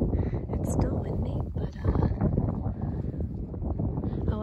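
Steady wind blowing outdoors on a snowy day, a continuous broadband rush with mic buffeting that stays loud and close throughout, with no lull.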